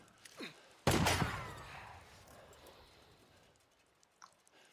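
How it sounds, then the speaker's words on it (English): Gunfire in the video game Days Gone, a single loud close blast followed by a long rumbling decay and faint scattered sounds afterward, with no talking over it. "someone's shooting at us."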